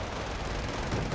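A dense, continuous roar of TOS-1 Buratino rocket launcher fire in the Wargame Red Dragon strategy game, loud and unbroken, with no separate blasts standing out.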